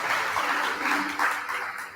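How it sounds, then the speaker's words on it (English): An audience at a Cebu Caritas Week gathering claps together in a dense, steady burst of applause lasting a couple of seconds. "A round of applause for everyone."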